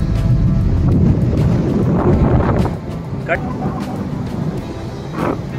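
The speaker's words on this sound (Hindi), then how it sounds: "काफ़ी मस्त हवा चलती हुई काफ़ी बढ़िया प्यारा मौसम बीच के किनारे" Strong wind buffets the microphone at Arawali beach in Goa, a loud rumbling roar that eases partway through, with someone talking over it.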